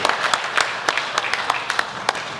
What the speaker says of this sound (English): Another round of applause for Dave Gee, please.